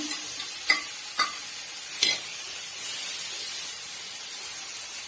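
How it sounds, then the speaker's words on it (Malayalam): Small prawns frying in a pan give a steady, close hiss of sizzling oil, with three sharp crackles or spatters early on before the frying settles into an even sizzle. "കൊഞ്ചല്ലെങ്കിൽ ചെറിയ ചെമ്മീൻ ആയതുകൊണ്ട് നമുക്ക് പെട്ടെന്ന് ഇത് ഒത്ത് തന്നെ വറുത്തെടുക്കാം"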